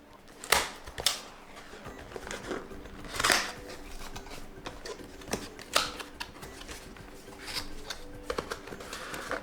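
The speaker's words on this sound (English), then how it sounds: "First we have to remove this plastic strip." A plastic strip is peeled off the box of an 8BitDo Lite 2 controller, making a close series of sharp crackles and snaps with quieter rustling in between.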